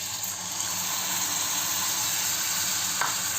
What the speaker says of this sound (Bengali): এই যে আগে থেকে ফেটিয়ে রাখা এই দইয়ের মশলাটা, দই আর মশলা একসাথে এটা ঢেলে দেবো।